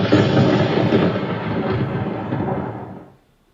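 Thunder in a dark-forest audio adventure game, a loud, deep, broadband rumble that rolls on for about three seconds before quickly fading into silence.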